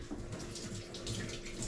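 Water runs steadily from a tap over freshly harvested bamboo shoots as they are washed, a continuous close splashing flow with no talk.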